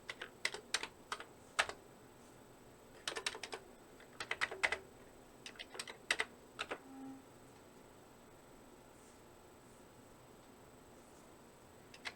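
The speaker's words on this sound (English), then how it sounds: "Type in this program line by line." Bursts of clicky keystrokes on a Commodore 64 keyboard, quick clustered taps with short pauses between runs, fairly close and otherwise quiet.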